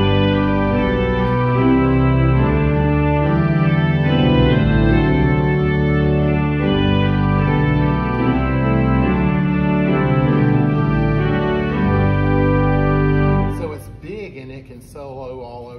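Loud, dense pipe organ chords enlarged with electronics sustain with a thick, processed, reverberant character, then stop suddenly, leaving a brief tail of noise.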